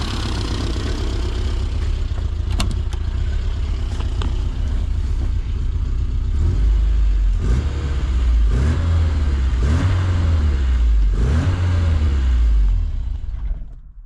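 A classic Mini Cooper RSP engine drops from a rev to a steady idle, a loud close rumble with a few throttle blips and a lumpy low throb that settles, no talking.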